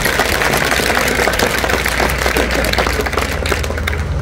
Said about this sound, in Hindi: ताली कमजोर है भाई इसके लिए